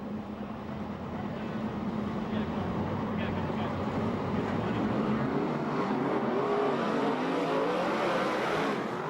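Sprint cars with 360 engines at a USAC/CRA dash in Ventura, California, roar loudly and steadily on track, engine pitch rising and falling as they accelerate through the turns, with an announcer talking over the din.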